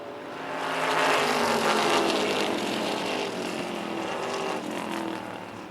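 Race cars in a single-file line roar down the backstretch in a steady, sustained engine drone that swells early and holds loud throughout, with no voices.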